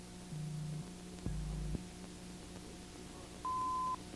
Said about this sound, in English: Turn on the table power.